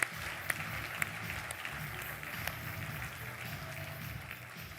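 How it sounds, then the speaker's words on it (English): An audience at an APG World Connect event claps fairly faintly and steadily for a few seconds, with a couple of sharper claps standing out near the start. "Big round of applause."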